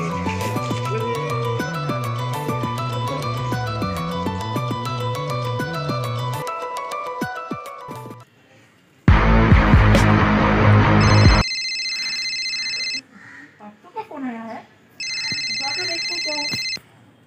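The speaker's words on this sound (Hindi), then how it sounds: "चलो देखते हैं फोन करते हैं सोमित्र को" A phone ringtone plays a repeating electronic melody, then after a burst of noise a high beeping ring tone sounds twice with pauses between.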